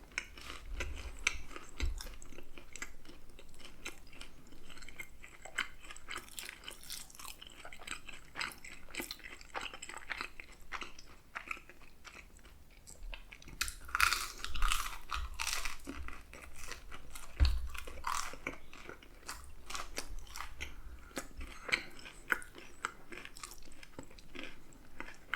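Close, intimate chewing and munching through a chicken meal, soft crunches and wet bites repeating irregularly with occasional louder crunchy bursts and faint rustling of packaging, no talk.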